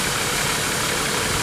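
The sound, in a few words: Nissan Patrol Y61 TD42 diesel engine idling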